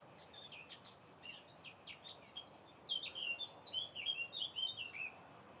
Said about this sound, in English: If you know which kind of bird is this one, please write me in the comment